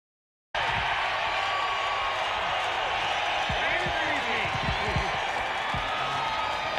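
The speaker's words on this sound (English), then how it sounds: "They stand, they scream and cheer." Race crowd at the 1999 IROC race at Michigan roaring and cheering after a collision finish, a dense, steady wall of distant screaming voices with scattered thumps underneath, lasting the whole stretch after a brief silence.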